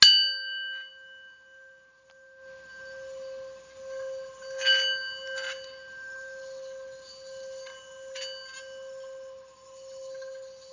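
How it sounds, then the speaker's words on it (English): A Tibetan singing bowl rings with a long sustained metallic tone and shimmering overtones, struck again a few times so the ring swells and slowly decays in a quiet room. "I also use the Tibetan bowls."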